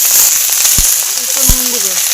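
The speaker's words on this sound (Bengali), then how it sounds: "এবার তেলে পেঁয়াজ কলি এবং আলুগুলোকে ভালো করে ভেজে নেব" Onion stalks and potatoes fry in hot oil in a wok, a loud, dense, bright sizzle with crackling throughout and two low thuds near the start and middle.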